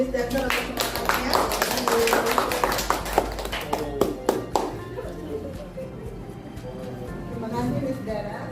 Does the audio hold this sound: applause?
yes